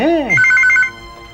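A landline telephone in a domestic scene of a Tamil TV serial rings loudly and close, with a short electronic trill of rapid repeated tones after a brief swooping chirp.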